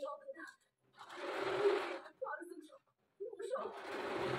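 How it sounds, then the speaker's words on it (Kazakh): A sewing machine stitches fabric in bursts of steady whirring motor hum, broken by short pauses, fairly close and alone. "айландырып тігіп шығатын боламын"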